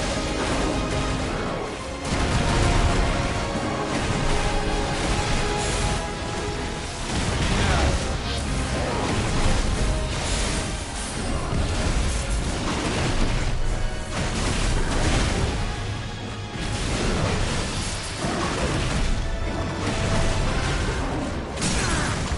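Dense, continuous battle din from Final Fantasy 16 combat, with repeated crashing blasts and booming impacts layered over a steady loud wash, the energy swelling and dipping throughout.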